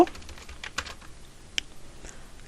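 Quick, light keystrokes tap on a computer keyboard while entering an HTML table tag, a faint irregular patter of clicks close to the microphone with no talk.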